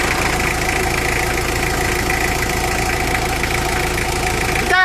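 Mitsubishi L300 engine idling with a steady metallic rattle while the clutch pedal is released, loud and continuous throughout at close range, with no talk.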